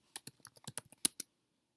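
Rapid keystrokes on a computer keyboard, about a dozen crisp close clicks in an uneven burst that stops abruptly, with no voices.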